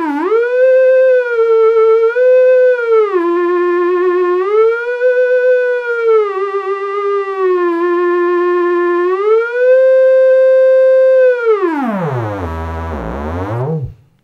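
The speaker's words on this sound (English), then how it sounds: "it'll allow us to use the theremin to act as a controller for the oscillator" A littleBits synth oscillator plays a loud, buzzy square wave whose pitch is steered by a theremin, gliding and wobbling between held notes before sweeping sharply down and cutting out.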